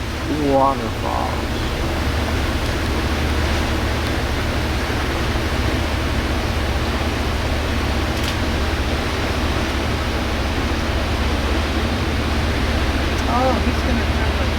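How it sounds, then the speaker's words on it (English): Hanging Valley waterfalls in New Zealand give a steady, dense rushing roar that fills the whole stretch without a break. Brief faint sounds surface near the start and end. "Hanging Valley Waterfalls."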